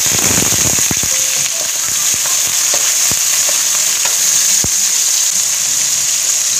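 Shrimp frying in hot oil with lemon juice, a loud continuous hissing sizzle with sharp pops and spatters crackling early on, alone without talk.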